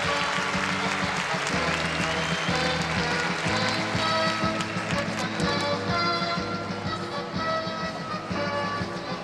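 A television audience applauds a circus act at a 1996 Brazilian charity show, sustained dense clapping from a large crowd filling the space for several seconds, with light talk beneath.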